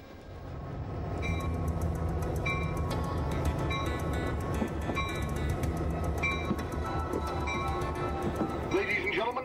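An Amtrak passenger train, the Coast Starlight number 14, rolls along with a steady low rumble and regular clickety-clack of wheels over rail joints, a voice faintly present beneath the continuous running noise.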